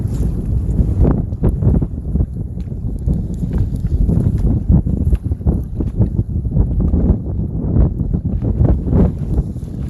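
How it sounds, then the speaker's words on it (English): Strong wind buffets a small fishing boat on the water, loud gusty rumbling and microphone-battering bursts that pulse unevenly and close throughout. "there's nothing I can do about hiding that wind"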